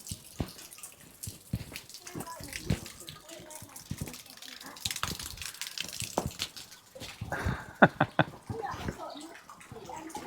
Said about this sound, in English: Still a little bit of water draining out of the pipes as we come down to the bottom.